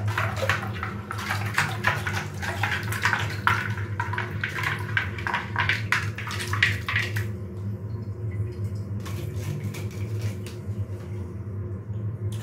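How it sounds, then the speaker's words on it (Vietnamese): Water bubbles and gurgles in a blocked bathroom washbasin drain as it is cleared, a steady wet churning with crackly bursts through the first half that thin out to a quieter, intermittent fizz. "Nghe tiếng sôi luôn các bạn."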